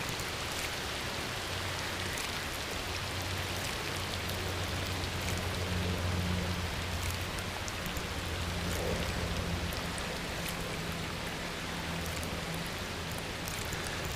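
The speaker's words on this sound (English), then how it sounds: "Unless it stops raining." Rain falls steadily outdoors during a fishing outing, a dense, continuous patter and hiss on surfaces that stays even and fairly close for the whole stretch, with a low hum underneath.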